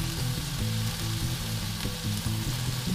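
Tuna searing on its sides in a hot pan, a loud, continuous sizzle with a steady low hum underneath and no talking.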